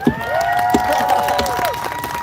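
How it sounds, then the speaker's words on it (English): Outdoor crowd at a march on Parliament Hill clapping and cheering, a broad wash of applause with scattered shouts and a sustained horn or whistle-like tone running through it. "give yourselves a round of applause for coming out today"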